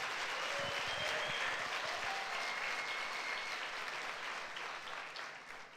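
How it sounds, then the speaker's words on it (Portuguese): Sunday church congregation breaks into sustained applause, a broad even wash of many hands clapping, steady then slowly fading toward the end. "Só quem recebe, diga amém e dê um aplauso a Jesus"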